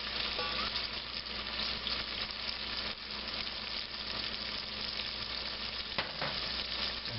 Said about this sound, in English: the sausage isn't making as much grease as I expected, so I'll add a little olive oil to it